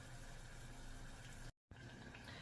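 Stuffed zucchini flower fritters fry in hot oil with a steady, dense sizzle that fills the whole clip. The sound breaks off in one brief silent gap, then carries on as before.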